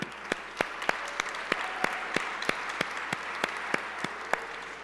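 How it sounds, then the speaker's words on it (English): Applause rises at a charity gala for fertility preservation. Crisp, evenly spaced claps sound close over a soft, steady background of the room. "I spend most of my day applauding Joy Lewin, so it's something that I'm used to, so it's good to see others are doing it as well"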